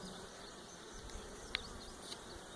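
Honey bees buzz in a steady, close hum at an open hive in the early morning, with a brief sharp click partway through.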